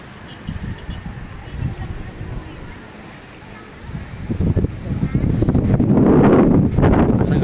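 Wind gusts buffet the microphone outdoors on a hillside, rumbling low and uneven, then build into a strong continuous roar in the last seconds, with voices heard faintly beneath.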